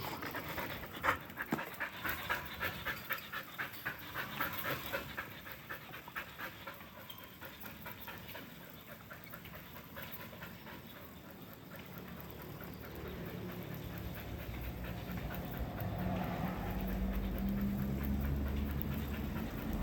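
A dog panting steadily while running after a bicycle, a rapid rhythmic breathing close by, with rolling wheel and ride noise building louder toward the end.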